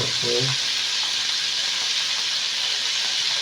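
Chicken and carrots fry in a pan for chow mein, giving a loud, steady sizzle that runs the whole time, with a brief low clatter right at the start.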